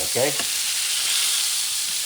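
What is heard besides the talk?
pork tenderloin searing in olive oil in cast iron pan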